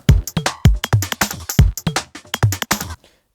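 Programmed electronic drum beat built in Ableton for an IDM track, crisp punchy kicks and snappy hits in a steady, slightly syncopated pattern, loud and alone before stopping abruptly.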